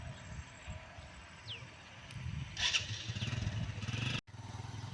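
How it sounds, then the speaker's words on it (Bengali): A motorcycle starts up and pulls away along a riverside village path, the engine revving up into a rising, throbbing drone after some clatter, fairly near and cutting off briefly near the end, with no talk. "সেই টিচার চলে যাচ্ছে বাইকে করে।"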